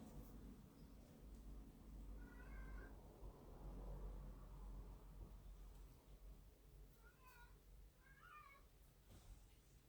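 A cat meows a few times, short rising calls, one early and a quick pair later, over a low background hum.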